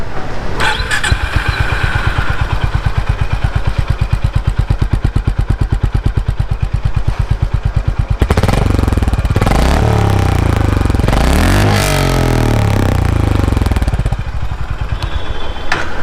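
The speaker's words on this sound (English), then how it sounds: "So this is what the engine sounds like." A Honda CB350 motorcycle engine idles with a steady, loud thumping single-cylinder beat, then is revved hard through several rising and falling blips before settling back to idle.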